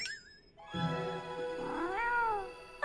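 A cartoon cat meowing, one drawn-out, bending meow preceded by a short high tone, clear and close with no talk.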